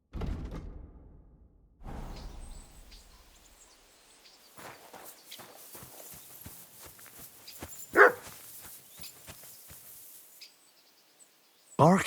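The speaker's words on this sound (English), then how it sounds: "Barking." A dog barks a few times in the game Kingdom Come: Deliverance II, the barks sharp but fairly faint and distant amid quiet ambience, with speech and a door sound around them.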